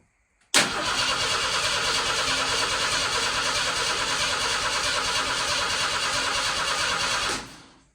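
An old engine cranks and catches on a first test drive, then runs steadily and loudly with a rough, throaty roar for several seconds before cutting off abruptly near the end.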